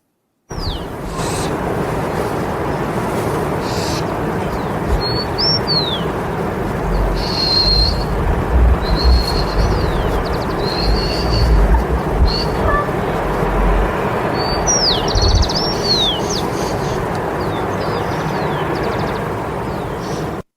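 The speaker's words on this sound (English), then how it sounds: "there are 3 herders in this clip, and there are also 3 birds, at least" Herders call out across a high Peruvian Andes landscape while at least three birds chirp in short, sharp bursts, over steady wind-like outdoor rumble.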